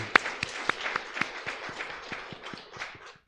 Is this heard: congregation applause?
yes